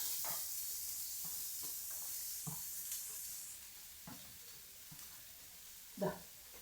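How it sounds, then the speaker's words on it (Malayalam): Chopped banana stem is stirred into a sizzling pan with fried rice for a stir-fry with cowpeas. A continuous hiss of frying runs under intermittent scraping stirs, with one louder scrape near the end. "ഉണ്ണിക്കാമ്പ് ഇട്ട് കൊടുത്ത് അതിനുശേഷം നന്നായിട്ട് ഇളക്കാം"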